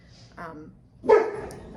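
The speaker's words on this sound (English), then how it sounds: "Somebody's gonna mow and so my dog's gonna bark." A pet dog barks nearby at a neighbour's mowing, one softer yip then a louder close bark about a second later.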